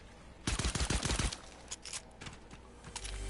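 Rapid pistol gunfire in the Fortnite video game, a burst of close, loud shots in quick succession followed by a few scattered quieter shots and faint game sounds.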